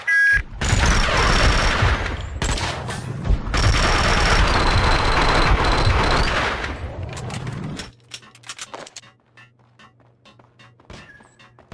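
Dense, sustained gunfire in Max Payne 2, loud rapid bursts and impacts stacked for about eight seconds, then dropping off into scattered lighter clicks and thuds over a low hum.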